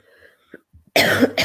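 A few faint, short sounds, then a harsh close cough bursting out loudly, followed by another brief cough.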